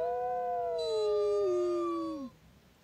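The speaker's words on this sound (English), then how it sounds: "one of the dogs gave an actual howl" A single dog gives a long, clear howl that slides slowly downward in pitch for about two seconds before breaking off, alone and fairly close.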